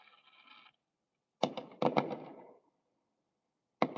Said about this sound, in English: They shooting fireworks outside, yo.